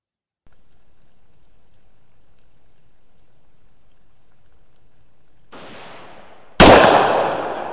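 Single rifle shot from a 350 Legend firing a Winchester Copper Impact bullet outdoors, a loud sharp crack after several seconds of quiet hiss and a brief rustle, followed by a decaying echo.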